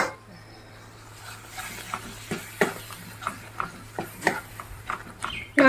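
Sauce-coated food stirred in a pan over a full gas flame, spoon scraping in soft irregular strokes with faint sizzle beneath, a low steady hum throughout and a louder knock at the end.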